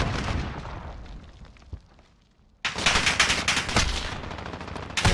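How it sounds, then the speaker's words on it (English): Heavy video-game gunfire in a competitive community match: bursts of rapid automatic shots, a brief lull with a lone crack, then a loud, sustained fusillade of overlapping gunfire. "Johnny's going to take some heavy gunfire"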